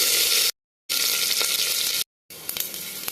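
Garlic sizzles loudly in hot oil with mustard seeds, urad dal and curry leaves, a steady bright frying hiss broken by two brief silences, with a few spatters near the end.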